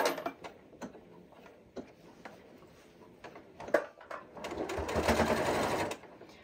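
Home sewing machine running a second row of stitching around a reversible, microwave-safe fabric bowl cozy, in short start-stop bursts with light ticking, then a longer steady whir near the end.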